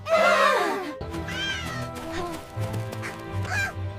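A cartoon cat in an animated children's telling of the Turnip folk tale meows several times, close and clear, over light background music.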